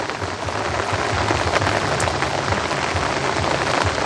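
Steady rain falls on a flower garden, a dense, even hiss of drops with no talking, constant in level throughout.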